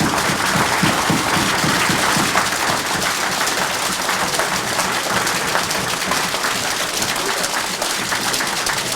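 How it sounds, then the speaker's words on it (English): Loud, dense audience clapping for an award winner at an awards ceremony in Malaysia, a sustained roar of many hands that stays even for the whole stretch. "and if you can clap for him."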